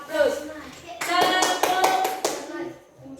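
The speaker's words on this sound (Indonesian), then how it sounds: "tepuk tangan" Hand clapping by a class during a teaching simulation for a Pancasila lesson, a short burst of close, bright claps in a quick rhythm after speech, with voices before and after.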